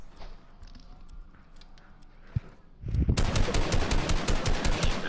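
Rapid automatic gunfire erupts in a video game during a close multiplayer match, a loud, steady burst of repeated shots following quieter scattered footsteps and faint in-game sounds.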